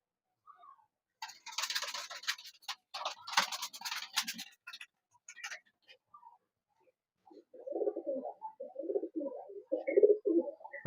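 Kaldoma pigeons in a loft, some of them moulting. Wing flutters and scratchy clatter come first, then soft low cooing rises near the end, fairly close and faint.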